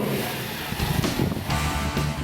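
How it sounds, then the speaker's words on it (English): A Toyota Hilux 4x4 climbing a slope on an off-road club challenge course, its engine rumbling and surging in short bursts under steady wind noise, fairly close. "Leon deftly steers the Hilux through the rest of the gates."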